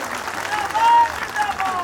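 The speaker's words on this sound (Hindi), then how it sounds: "आप लोग जोरदार ताली बजाकर स्वागत कीजिए" Rally crowd clapping loudly to welcome Kalpana Soren at an alliance nomination meeting, a dense continuous wash of applause with faint voices and whistles mixed in.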